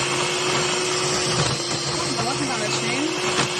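An electric blender whirs steadily, blending mango and ice into ice cream, a loud continuous motor drone with a soft voice talking over it.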